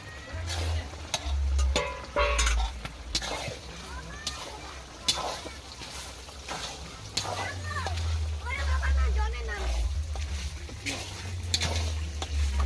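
Tomato and ginger hitting hot oil in a pan with turmeric, sizzling and crackling loudly up close while a spoon scrapes and stirs, with a voice talking over the frying.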